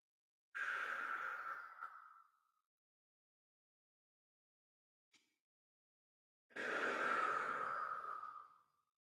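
Two long, deep breaths during a qigong exercise that opens the lung meridian, each a slow airy rush lasting about two seconds, separated by near silence with one tiny click, close and fairly loud, with no talking.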